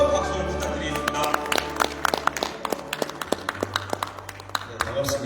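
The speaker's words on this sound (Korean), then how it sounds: "박지원 회장님께 뜨거운 박수를 부탁드리겠습니다" Audience applause at a regional development policy forum in Jeonbuk, Korea, with scattered claps and sharp taps spread through the hall, heard over a low steady hum with some background voices.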